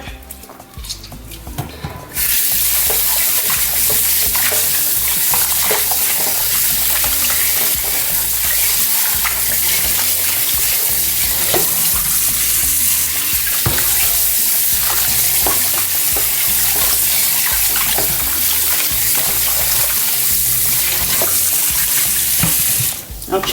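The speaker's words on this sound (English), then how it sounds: "wash my chicken with the lemon" Tap water running loudly into a kitchen sink while raw chicken is washed with lemon, a continuous splashing rush that starts after a brief quieter moment and carries on steadily to the end.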